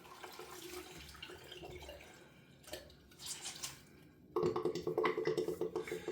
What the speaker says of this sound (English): I'm going to rinse the face again with this